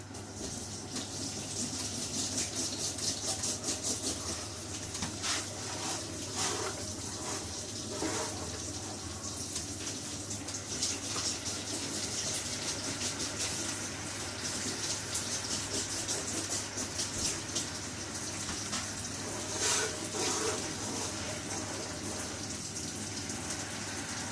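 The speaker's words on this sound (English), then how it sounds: "just going to wash this fork up of mine" A fork being washed under a running kitchen tap, a steady close gush of water lasting throughout with faint clinks and splashing variations, no talking.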